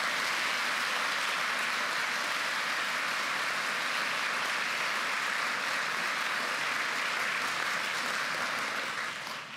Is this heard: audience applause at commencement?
yes